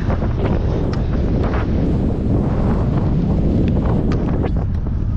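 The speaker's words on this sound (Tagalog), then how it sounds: "Sobrang lakas ng hangin, no?" Strong wind buffets the microphone in a steady, loud, rumbling roar that never lets up.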